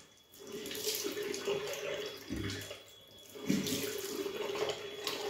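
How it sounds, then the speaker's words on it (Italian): Tap water runs steadily into a shaving soap bowl holding crushed soap, a continuous close splashing rush that shifts in pitch as the bowl fills. "ci metto dentro il sapone schiacciato e riempio di acqua in modo che si idrati bene"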